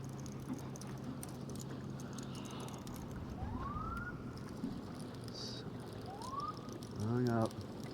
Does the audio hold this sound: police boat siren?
yes